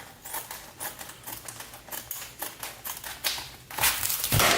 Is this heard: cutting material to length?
yes